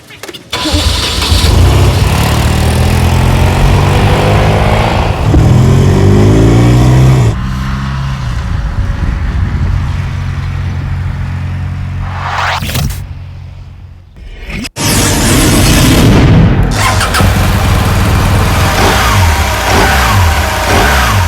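A 2013 BMW R 1200 GS motorcycle engine starts and revs loudly up close, its pitch rising and falling, dropping briefly, then roaring back up.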